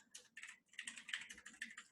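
Quiet close typing on a computer keyboard, short bursts of crisp key clicks separated by brief pauses, with no talking.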